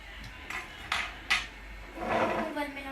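A spoon clinks against a dish while stirring vanilla sugar into about 100 ml of milk, three or four sharp taps followed by a softer swirling scrape, close and fairly quiet.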